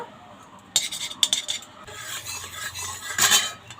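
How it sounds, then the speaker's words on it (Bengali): A metal spoon stirs semolina frying in ghee in a wok, making short bursts of gritty scraping and clinking against the pan, close and fairly loud, with a soft sizzle underneath. "সুজিটা হালকা করে একটু ভেজে নেব"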